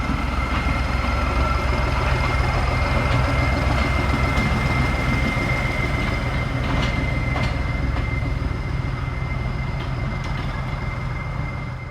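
A train rumbles steadily at Didcot Railway Centre, a loud, continuous roar of wagons on rails with a rhythmic clatter and faint wheel squeal running throughout, with no one speaking.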